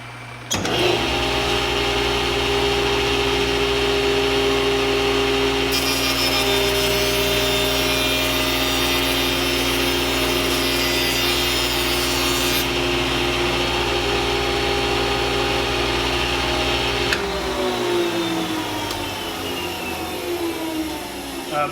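A router table flush-trims edge banding on a wood panel, with a loud, steady, close machine whine that runs continuously and shifts slightly in tone near the end.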